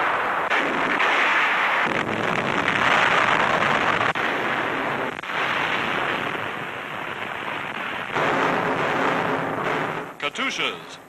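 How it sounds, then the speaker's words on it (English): Heavy Soviet artillery bombards Novorossiysk in 1943 wartime newsreel footage, a dense continuous roar of booming fire with repeated heavy thuds, under a narrator's voice. "Russian heavy artillery bombards Novorossisk for 4 days and nights"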